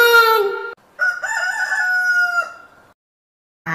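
A cartoon chicken crows in a short, loud, close cock-a-doodle-doo, first one quick call, then a longer drawn-out crow that fades into silence.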